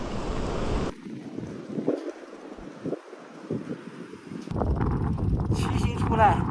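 Strong wind gusting over an open landscape while cycling in Tibet, buffeting the microphone in uneven bursts and rising louder toward the end.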